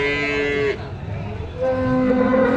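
A large, heavy pregnant cow moos at a cattle market in Karimangalam, Tamil Nadu, giving two loud, drawn-out lowing calls close by, split by a short pause.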